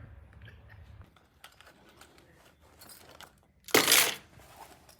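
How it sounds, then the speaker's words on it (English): Jangling keys being emptied out, with soft clinks and shuffles building to a sudden loud metallic clatter near the end, close and without talk. "It's just me emptying out keys."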